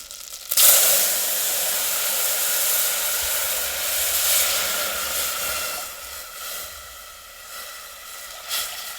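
A loud burst of hissing sizzle erupts as water is poured into hot oil tempered with cumin and asafoetida, then settles into a steady, fading bubbling hiss.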